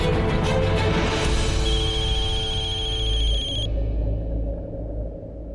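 A telephone rings in a home, its bell trilling in a steady repeating pattern over a low rumble, then cutting off abruptly.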